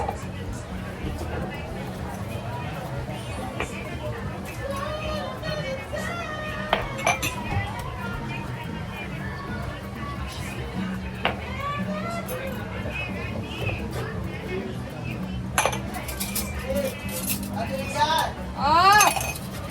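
Plates, dishes and cutlery clink in scattered bursts against a busy household background of voices and children's chatter, with sharper clatters near the end.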